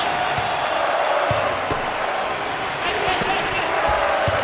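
A packed arena crowd roars and cheers steadily throughout an NCAA March Madness 08 college basketball video game, with scattered ball bounces and thuds breaking through the dense, loud crowd noise.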